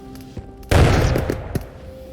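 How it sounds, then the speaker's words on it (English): A grenade goes off in the video game Into The Radius, a single loud, deep blast that bursts suddenly after a quiet lead-in and rumbles away over about a second. "have a grenade ready and use it to blow a gap"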